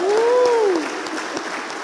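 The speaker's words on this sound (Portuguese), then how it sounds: "dê um aplauso a Jesus pelo testemunho do Tiago" A church congregation applauds, a dense, steady wash of clapping that tapers slightly toward the end, with a voice briefly calling out over it.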